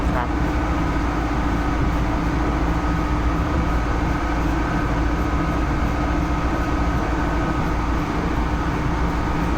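Steady low rumble and rushing hum of an RER train in motion between Paris Orly airport and central Paris, heard from inside the carriage, continuous throughout.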